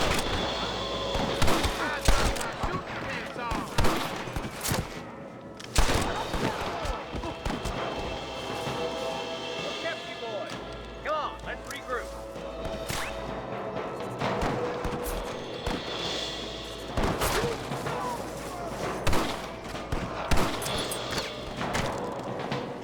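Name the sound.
gunfire in a shootout at Pike Station, from the video game Red Dead Redemption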